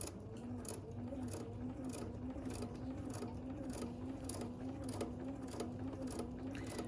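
A Bernina sewing machine stitches a quilt block at a steady pace, its rapid mechanical whirr and ticking running continuously and quietly, close by.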